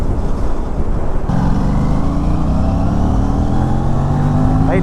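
An Aprilia RS 457 motorcycle engine accelerating during a ride, its loud revs climbing steadily in pitch through the gears, with heavy wind rush close to the rider throughout.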